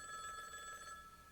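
A telephone rings in steady repeated electronic trills, fairly loud and close, with no voices over it, in a late-1980s sales setting.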